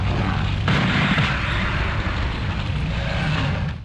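Gunfire from a one-time weapon power-up in the Nightmare Creatures video game, a dense, loud stream of booming low shots with a sharp burst near the start, continuous and without talk.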